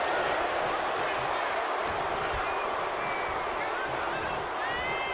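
Wrestling arena crowd in the WWE 2K25 video game, a dense continuous roar of cheering and noise that holds steady throughout, with commentary talking over it.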